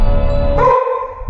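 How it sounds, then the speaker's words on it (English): A dog barks nearby, loud and close, in a short burst of one or two barks, heard indoors during an interview. "Shut up, dog!"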